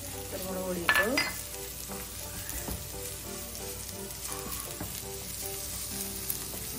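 Onions and spice masala sautéing in a pan for a pearl spot fish dish cooked in banana leaf, a steady close sizzle throughout with occasional clinks and scrapes of a utensil stirring against the pan.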